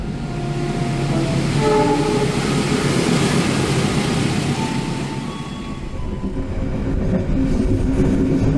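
A Sawunggalih economy passenger train from Jakarta to Kutoarjo rumbles steadily and loudly, with rolling wheel noise and faint tonal squeals throughout, no voices.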